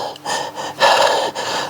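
A voice imitates heavy mouth breathing in a few loud, rasping inhale and exhale pulses, the longest breath strongest near the middle.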